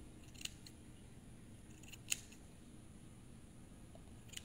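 Scissors snipping during a haircut: a few faint, isolated crisp clicks spread apart over a quiet, hissy background, with long pauses between cuts.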